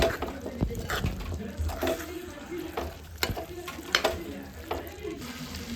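Pork fry coated with Kashmiri chilli powder sizzles in a pan while being stirred, giving a continuous close frying hiss punctuated by several sharp scraping and clattering stir strokes.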